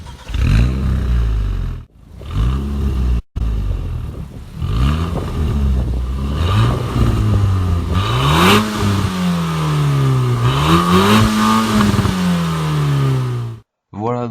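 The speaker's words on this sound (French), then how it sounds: "je vous laisse écouter le bruit du moteur" An Alpine A110 sports car engine revs hard and climbs through the gears, pitch rising and dropping with each shift, loud and close, with brief pauses between runs.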